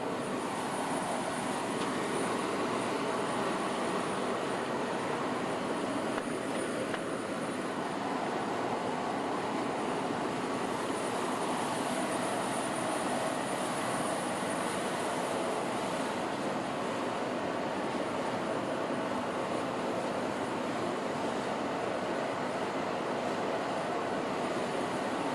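The President's aircraft taxiing after landing at Ellington Field in Houston, a steady, broad jet-engine roar with a high whine that holds unbroken for the whole stretch, with no voices over it.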